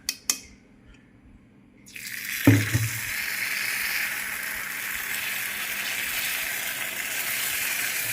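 Tempering of chillies, dals, mustard seeds and curry leaves poured into a pan, two sharp clicks and a quiet pause, then a sudden loud sizzle that settles into a steady, close crackling hiss.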